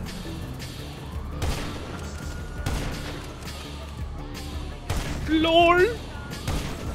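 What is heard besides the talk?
sniper rifle firing explosive rounds in a video game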